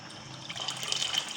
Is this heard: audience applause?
no